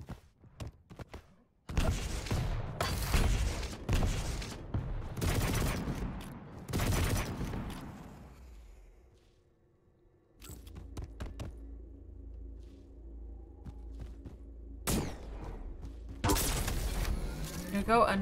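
Rapid weapon fire in a Quake duel match, nailgun bursts trading with railgun shots and lightning gun, loud clustered volleys separated by a quieter stretch with a steady hum before another sharp burst.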